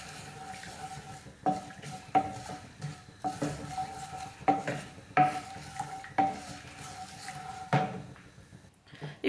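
Jaggery melting with a little water in a pan is stirred with a spoon, giving a run of distinct scraping strokes against the metal, fairly close and quiet, with no talking.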